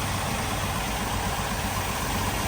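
A Jeep Wrangler YJ fitted with an electric fuel pump, with a leaking base gasket, runs at idle: a steady, close, even engine rumble with a dense low throb and no speech.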